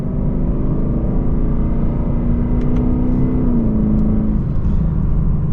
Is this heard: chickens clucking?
no